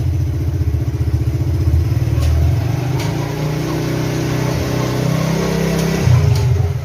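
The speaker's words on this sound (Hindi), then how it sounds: "अब जितना जितना एक्सीलेटर हम देंगे उतना ही स्पीड इसकी बढ़ेगी।" A gearless scooter without kick or clutch accelerates close by, its engine revving up and down in smooth waves with some mechanical clatter.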